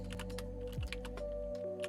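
Fingers type on a computer keyboard during a coding study session, producing a quick, irregular run of soft key clicks with no talk, set against a steady low hum.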